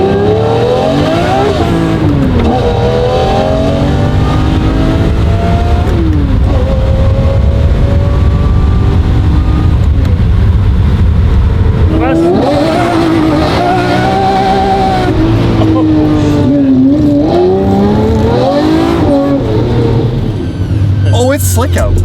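A powerful 640-horsepower rear-wheel-drive sports car revs and accelerates hard on a slick road with traction control off, loud and close, its pitch climbing and falling repeatedly, with people talking over it.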